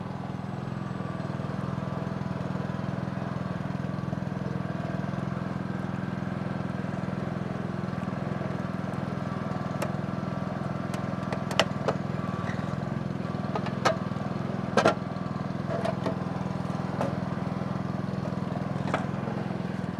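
A hydraulic power unit's motor runs steadily throughout, a constant mid-level drone with a few faint clicks and taps near the middle.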